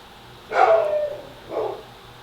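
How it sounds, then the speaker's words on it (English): A dog, Remy, gives two barks indoors, the first loud and drawn out, the second shorter and softer, with a brief gap between them and no talking. "he's barking at nothing."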